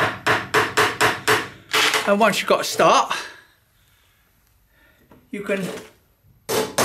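Quick, sharp hammer strikes drive a nail held in a nail gripper, a fast series of about six loud close blows, then talk with a few more strikes after a pause.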